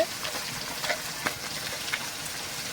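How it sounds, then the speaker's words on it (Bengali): Pieces of katla fish fry in a pan, giving a steady, faint crackling sizzle with a few sharper pops and no voices over it. "এই যে এক গামলা আর এই গামলা কাতলা মাছ ভাজা হচ্ছে।"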